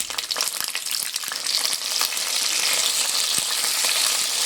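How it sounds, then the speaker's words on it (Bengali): Black cumin seeds and sliced flat beans hit very hot oil and set off a loud, dense crackling sizzle that builds into a steady roar. It sounds close, with a few scattered pops early on and no voices. "তেলটা খুব ভালো মতো গরম হয়ে গেছে, এর মধ্যে দিয়ে দেব কালো জিরে আর দিয়ে দেব কেটে রাখা শিমগুলো"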